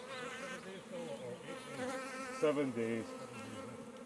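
Honey bees buzz steadily at an open hive, a dense droning hum that swells briefly near the end, with a few quiet spoken words.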